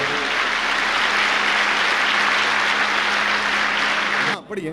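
A church congregation claps together in a sustained, loud wash of applause that holds steady for several seconds, then cuts off abruptly near the end.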